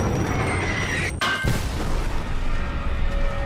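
A missile blast in a video game: a sudden deep boom erupts over a loud, continuous rumbling background, followed by a sustained roar.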